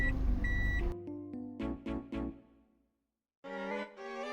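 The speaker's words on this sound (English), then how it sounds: "Toyota is gracious enough to give us a warning signal if the handbrake is on while the car is" Inside a Toyota Innova 2.8, a handbrake-on warning sounds while the car is moving: a series of short, clear electronic beeps at close range, with a brief silence and a further beep near the end.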